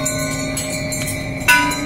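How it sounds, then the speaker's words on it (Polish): Small temple bells rung by hand at a Buddhist temple in Bangkok, a steady bright ringing that swells into a sharper, louder jingle near the end of the short stretch. "że będzie dzwonić dzwonkami"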